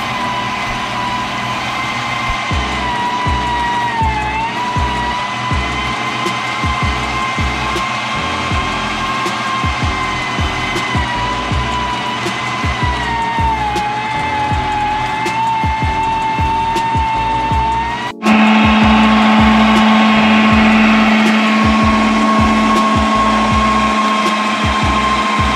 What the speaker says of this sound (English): I pass them through the grinder a couple of times to turn them into a little pasty mush